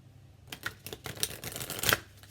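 A Shamanic Dreamer oracle deck, used as tarot cards, is shuffled near lit candles. Close, quiet papery flicks and riffles begin after a short silence and continue in an irregular run, with no talking.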